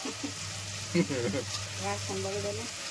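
Food sizzles and fries in a pan with soft stirring sounds, while a voice speaks briefly in the background.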